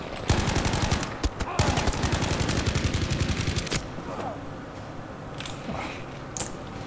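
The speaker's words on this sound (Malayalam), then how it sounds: "ഓ, ഇവിടുന്ന് വെടി വരുന്നുണ്ട്." Gunfire in Battlefield 5: sustained rapid automatic bursts crackle loudly and continuously for several seconds, then thin out into scattered, more distant shots and battle noise.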